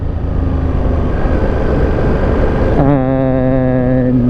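A 2025 Ducati Panigale V2S motorcycle accelerating in sport mode: a steady engine drone that shifts partway through into a clear, rising mechanical whine, loud and continuous with no talk.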